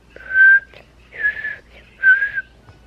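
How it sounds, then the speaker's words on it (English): A person whistles three short, clear, steady notes indoors, each separated by a brief pause, close to the listener. "So now I can whistle."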